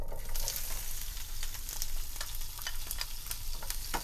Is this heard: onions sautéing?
yes